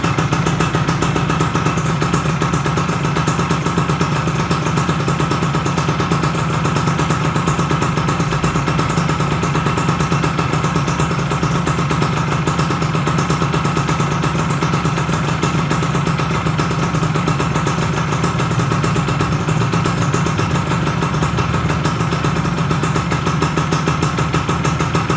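A Yamaha F1ZR motorcycle engine runs steadily during carburetor tuning, with a loud, close, continuous two-stroke drone and rattle holding an even pitch from start to finish, with no talk.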